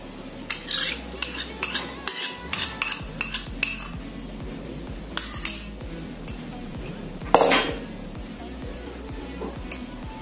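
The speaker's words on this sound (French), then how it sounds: "Je mélange d'abord le beurre et le lait." A utensil clinks and scrapes against a bowl while melted butter and milk are mixed for twisted beignet dough, with repeated irregular taps and stirring scrapes, close and clear.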